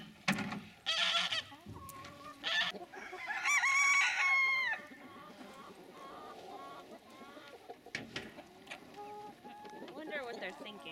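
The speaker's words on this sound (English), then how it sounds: "There's an Icelandic breed of chickens here." Icelandic breed chickens in a farmyard, a rooster crowing loudly at close range with several birds clucking around it in irregular bursts, and people speaking quietly in the background.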